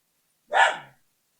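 One short dog bark rings out, sharp and clear, against complete silence before and after.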